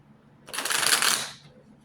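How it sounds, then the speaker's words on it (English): A deck of tarot cards riffles in one quick shuffle, a bright papery burst lasting under a second, close and clear with nothing else around it. "Allow me to shuffle."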